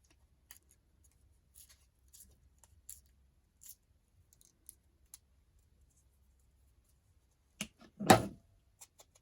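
On a crafting table, a glue stick is knocked over, landing as a sudden cluster of clattering knocks near the end after scattered faint clicks and taps from handling paper and tools.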